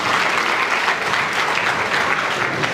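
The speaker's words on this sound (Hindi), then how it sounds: "तो एक तालियां अपने लिए बजा लो पहले" Loud, dense applause from a large crowd, sustained and even throughout with no voices over it.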